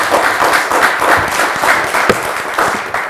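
Weak, thin applause from a studio audience on a Turkish word-guessing game show, a scattered patter of claps that continues at a steady level for about three seconds.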